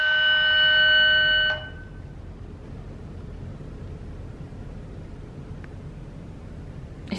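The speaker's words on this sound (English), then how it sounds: "Our fire alarm sounds like church bells." A home fire alarm rings a loud, bell-like chime with stacked tones for about a second and a half, then stops, leaving quiet room hiss.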